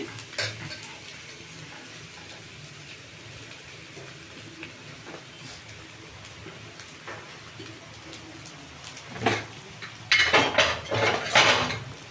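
Rice is stirred and fried in a pan for egg rice, with soft continuous sizzling broken by scraping utensil strokes that grow louder and busier near the end.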